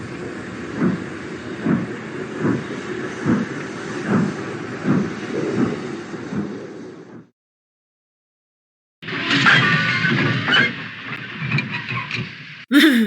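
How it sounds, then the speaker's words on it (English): Overnight sleeper train running as an audio-drama effect, a steady rumbling roll with regular rhythmic clacks from the wheels, broken by a short silence before the noise resumes. "someone has to take the overnight sleeper train."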